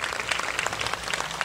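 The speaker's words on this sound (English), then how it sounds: "So please give her a big round of applause." Audience applause at an event, a brief, dense wash of many hands clapping at once, loud and continuous with no pauses.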